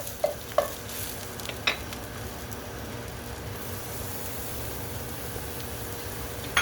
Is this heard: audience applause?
no